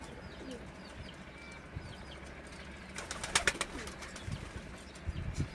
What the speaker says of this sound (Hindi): कबूतर आप देख रहे हैं